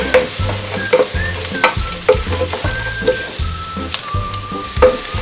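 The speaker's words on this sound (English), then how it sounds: "Give it a good stir." Crispy fish fillets being stirred and sautéed in a frying pan, with a steady sizzle of frying under repeated scraping strokes of the spoon that come every half second or so, close and fairly loud.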